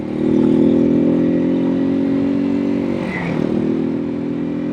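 A Janus Halcyon 250 motorcycle accelerates close by, its single engine giving a loud, steady buzzing note, then dipping briefly as it shifts gear before pulling again.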